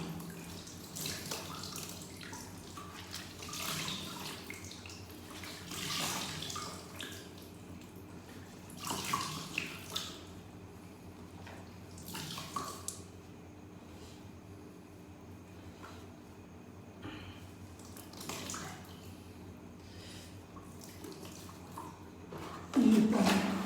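Water splashes and trickles in bursts as a cloth is wrung out by hand, likely over a toilet bowl, with several short splashy pulses under a steady background hum.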